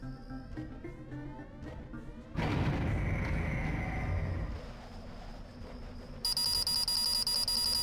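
An annoying electronic alarm beeps in the video game Deus Ex: Revision, a rapid high-pitched pulsing tone over a rumbling game background, growing prominent near the end.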